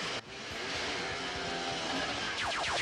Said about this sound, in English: They have very futuristic little dome cars that make very futuristic little noises.